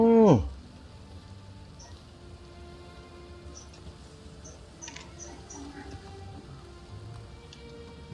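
Steady rain patters evenly on rooftops and streets in Novigrad in The Witcher 3, a soft continuous hiss throughout, after a brief voice at the very start.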